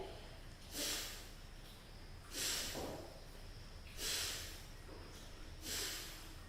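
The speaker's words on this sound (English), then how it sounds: "you're going to breathe just through your nose" Breathing in and out through the nose during a beginner breathwork class: four slow, soft nasal breaths come at a steady rhythm, each one a gentle airy rush. The breaths are close and fairly quiet, with no talking.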